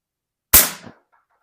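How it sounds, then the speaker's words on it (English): A BB gun fires a single sharp, loud crack at close range toward a backstop box, decaying quickly, followed by a faint brief knock, then silence. "I heard that BB land in the box"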